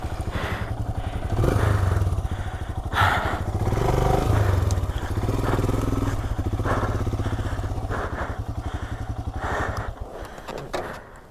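A souped-up Himalayan motorcycle ridden off-road, its engine chugging steadily up close with occasional rises in revs, with thumps and clatter from rough terrain throughout.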